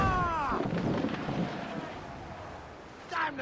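Ship cannons boom in a naval battle in the video game Assassin's Creed IV Black Flag, heavy blasts with rumbling tails heard close over wind and creaking, then another burst near the end, with shouted crew voices at the start.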